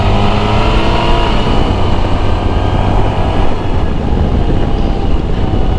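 Suzuki Burgman 650 Executive scooter pulling away at about half throttle in manual mode, its engine a steady, loud drone with dense road and wind rumble throughout, no voices over it.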